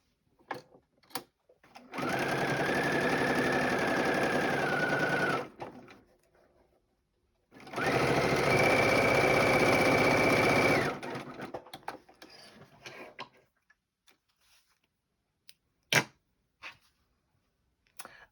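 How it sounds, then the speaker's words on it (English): A sewing machine runs two steady bursts, each about three seconds, stitching a quarter-inch seam on a charm-square quilt block, with short quiet gaps and faint handling clicks between them. "We're going to take a 1/4 inch seam right down that side."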